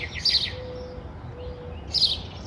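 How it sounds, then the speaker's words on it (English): Small birds chirp outdoors in two short bursts of bright tweets, one near the start and one near the end, with quiet ambient background and no talking. "the birds keep chirping"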